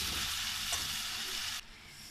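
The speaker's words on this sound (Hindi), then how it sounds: "दो मिनट ये मसाले को हम पकाएंगे गोश्त के साथ।" Masala frying in oil with beef for nihari, a close, continuous sizzle with a soft stirring sound that drops off suddenly near the end.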